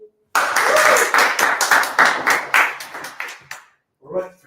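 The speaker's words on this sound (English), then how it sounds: "Please give a round of applause for Sesi." A sharp burst of audience clapping greets a judge at a stage event, loud and close at first, then thinning into scattered, tapering claps before a short voice at the end.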